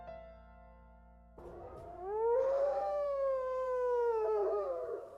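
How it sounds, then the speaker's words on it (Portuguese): A long, rising wolf howl carries through the night, sustained and wavering before slowly fading, heard alone over a quiet background. "Então soltou um longo uivo para a noite."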